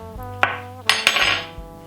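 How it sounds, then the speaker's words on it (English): A metal spoon clatters onto a dish in a home kitchen several times, each drop giving a sharp ringing clink that decays quickly, with no talking. "Drop the spoon, delicious."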